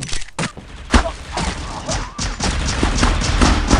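GSR 1911 pistol gunfire in the mobile shooter Critical Ops, with sharp shots and thumps in quick bursts over busy game noise, loud and close.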